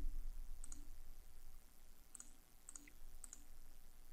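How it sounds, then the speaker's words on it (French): Quiet, sharp computer mouse clicks while tracing a manual outline in Photoshop, a few isolated clicks spaced apart over faint background hiss. "pour faire un contour manuel, ouais, des petits clics"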